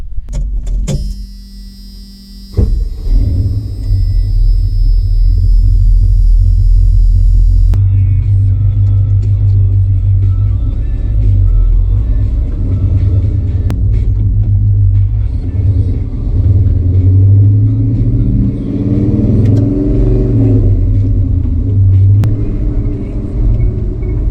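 Truck engine rumbling steadily while driving, a loud low drone throughout with a few light rattles and clicks over it.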